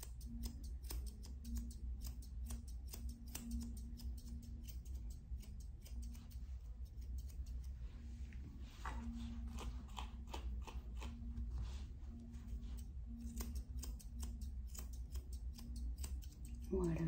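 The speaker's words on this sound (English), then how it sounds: "I am using my Paw Brothers brush with the plastic tips on the tines and my Artero Fusion Curvy Shears for the feet" Artero Fusion Curvy Shears trim the fur on a Pomeranian's feet with crisp, rapid snips repeating steadily throughout, and a soft voice occasionally speaks beneath them.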